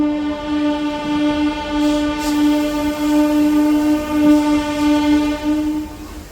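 A MEMU passenger train pulls out of platform two at Vijayawada railway station, its horn sounding a long, loud, steady blast over the rumble of the moving carriages, with no talking.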